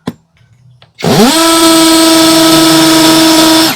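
Handheld KEELAT KCD011 electric drill biting into a soft wall, starting after a second of quiet with a loud sustained high whine that holds steady for several seconds at close range.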